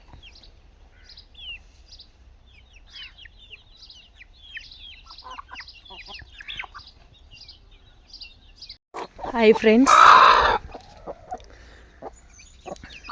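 Backyard chickens clucking and chirping in short, scattered calls on a farm where hens have laid eggs, with a louder, closer squawking burst near the end; a person briefly greets in speech.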